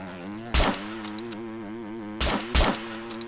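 Three sharp gunshots in the video game SCUM ring out, one alone and then two close together, over a steady droning tone.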